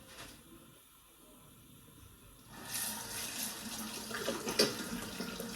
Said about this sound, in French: Faut que je me lave les mains.